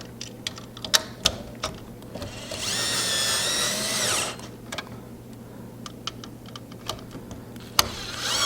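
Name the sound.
screws being screwed in with a drill during PC cooler installation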